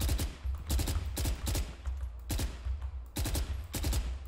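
Phantom rifle fire in Valorant: tight, rhythmic bursts of rapid shots, about four volleys over a low steady background hum, loud and close.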